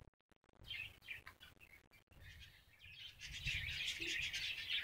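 Birds chirp and tweet inside a bird farm, several small calls overlapping in quick irregular bursts, with the twittering growing denser and busier toward the end against a quiet background.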